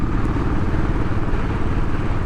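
A 2018 Royal Enfield Classic 500 single-cylinder motorcycle cruising in top gear on a country road, its engine a loud steady low thump mixed with wind rumble, no talking.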